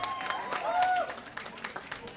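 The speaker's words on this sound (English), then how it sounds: "Let's give them a round of applause" A conference-hall audience at a panel on women as leaders in Northern Nigeria breaks into a round of applause, a brief burst of crowd clapping mixed with voices.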